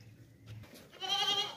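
A two-toothed goat bleats once, close by, in a short rising cry near the end, after a quieter stretch of faint background noise.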